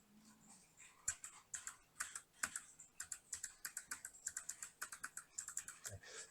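Rapid keystrokes on a computer keyboard in bursts of shortcut presses, close and crisp, with short pauses between clusters and no talking.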